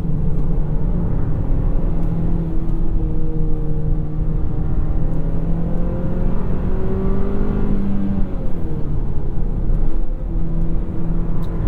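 A 2024 Hyundai Sonata N Line drives along in sport mode, its engine a loud, smooth, steady hum heard from inside, with the pitch rising and falling gently as speed changes.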